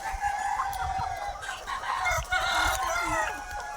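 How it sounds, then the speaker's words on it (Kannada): A flock of chickens clucks and calls repeatedly close by at a farm, with overlapping bird voices and some rustling throughout. "ನೋಡ್ರಿ ಫ್ರೆಂಡ್ಸ್, ಈಗ ಕೋಳಿ ಹೆಂಗೆ ಹಾರೇ ಬರ್ತಿದ್ದಾವೆ"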